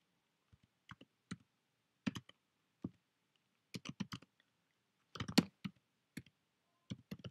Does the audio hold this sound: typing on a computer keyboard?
yes